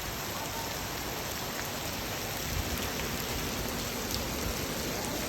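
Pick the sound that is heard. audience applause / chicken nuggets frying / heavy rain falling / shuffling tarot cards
heavy rain falling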